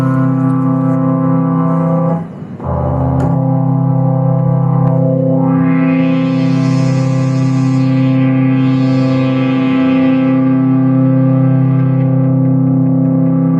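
A Behringer System 55 modular synthesizer sustains a two-note chord as a loud, buzzy drone, with a brief dip and retrigger early on, then a filter sweep that swells and rolls the brighter overtones up and down.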